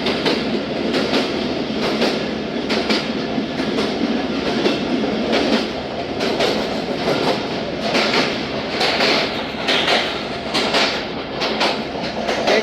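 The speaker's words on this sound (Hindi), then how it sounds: "481 किलोमीटर पर ट्रेन पास हो रही है।" The 130Dn Thal Express passes on the line through a mountain tunnel, wheels clacking over rail joints in a steady repeating rhythm beneath a loud continuous rumble.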